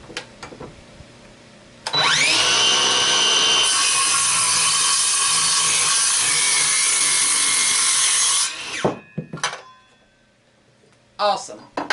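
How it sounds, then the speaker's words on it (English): Craftsman 20-volt cordless circular saw cutting wood, a motor whine that spins up sharply and holds a loud steady cutting roar for several seconds before stopping, followed by a few brief clunks. "Nice smooth cut again. I'm not having to force the saw through the wood."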